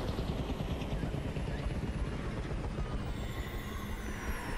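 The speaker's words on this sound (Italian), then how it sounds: "Sembrano attratti dall'elicottero." A helicopter flies over a tense zombie-film scene. Its steady, broad rotor and turbine roar holds evenly through the whole stretch, moderately loud, with no clear voices.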